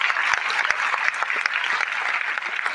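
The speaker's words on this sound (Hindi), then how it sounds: "तालियां इनके लिए हो जाएगी।" Applause from an audience at a student award ceremony, a dense steady patter of many hands clapping close by with no voices over it.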